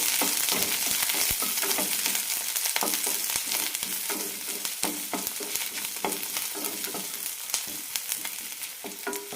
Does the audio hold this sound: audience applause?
no